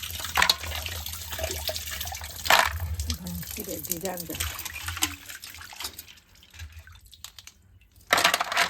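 Fresh crabs caught in the first monsoon rain of Konkan are rinsed in water, with close splashing, sloshing and running water plus a few knocks, while a voice talks faintly underneath.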